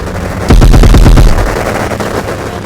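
Gunfire in the Roblox game Base Battles: a loud, close burst of rapid shots lasting under a second, followed by a fading rumble and low background noise, with no voices.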